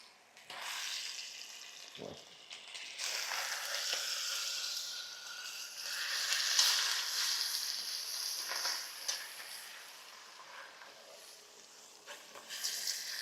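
Meat searing in a Lancaster cast iron 5-quart Dutch oven after being flipped and pressed down, a steady loud sizzle throughout with a brief low thump early on.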